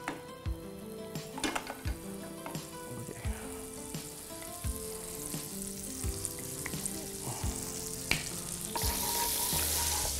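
Butter melts with a steady sizzle in a frying pan as the start of a chicken ragout filling for risoles, with clinks and stirring taps on the pan over background music.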